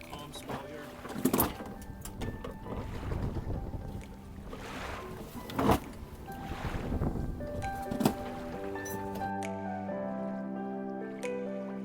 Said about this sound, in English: We're now under sail, bananas and all, heading to Hawaii.